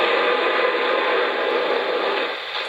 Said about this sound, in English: that blowdown's kind of short